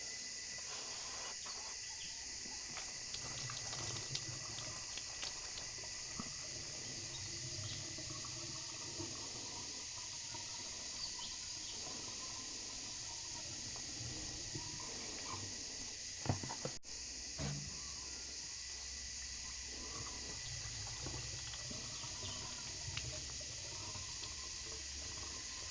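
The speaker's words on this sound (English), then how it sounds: "Pour some water into that pump." Water is poured into the water pump of an old Volkswagen fire truck, a faint, steady trickle and splash lasting a long stretch, with a few small clunks and a persistent high hiss in the background.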